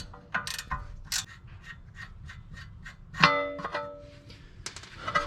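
A ratchet wrench takes off a 3/4 inch nut with a run of crisp, evenly spaced clicks, broken midway by a metallic clang, then a few more clicks.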